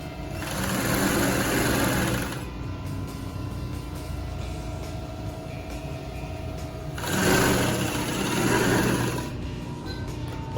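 An industrial 35800 lap seam chain stitch sewing machine, threaded with a single needle for denim, whirs in two fast bursts of stitching, each about two seconds long, separated by a quieter hum while the motor idles.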